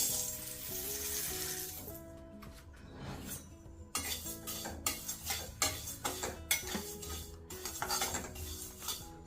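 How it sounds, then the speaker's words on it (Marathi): Flax and sesame seeds dry roasting in a pan for methi-dink dry fruit laddoos, with scraping and clinking of a utensil stirring against the metal and steady rattling of the seeds, fairly close, with no talking. "हे पण कोरडच भाजून घेते"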